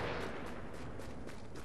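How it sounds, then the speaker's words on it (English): Explosions rumble in The Division's Dark Zone, a cluster of faint, distant booms and crackling blasts layered over a low continuous roar, with no voices. "There's some explosions going on."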